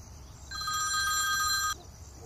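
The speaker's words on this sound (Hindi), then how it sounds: "अंजू ने फोन उठाया।" A telephone rings once in a single electronic burst of about a second, clear over faint background hiss.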